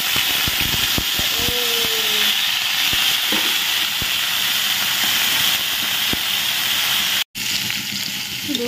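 Boiled jackfruit goes into a hot pan to cook, giving a constant close hiss and sizzle. Scattered clicks and clatter sit over it, and the sound cuts out for a moment near the end.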